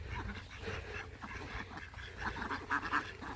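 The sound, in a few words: ducks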